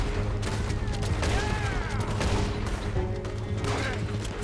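Revolver shots fired at bank wagon guards in the Red Dead Redemption 2 video game, with repeated sharp gunfire over a busy, steady background of game sound.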